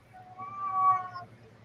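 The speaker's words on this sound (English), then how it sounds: "Your cat in heat again, Mike?" A cat in heat yowls in one drawn-out, rising wail that swells and fades, fairly close and clear over a low steady hum, with no talk.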